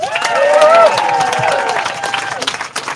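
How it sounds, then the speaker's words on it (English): A crowd at the finish of an Atlantic ocean rowing race claps and cheers close by for the arriving crew, with voices shouting through the applause before it thins out. "Another applause for Alan and the old Sea Dogs."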